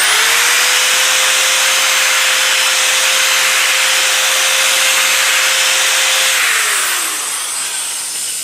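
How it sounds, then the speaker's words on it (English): A single long run of a power drill with a smaller bit enlarging a metal connector, a steady high whine with grinding texture, close and loud, winding down toward the end. "I've got a slightly smaller drill bit that I'm going to use"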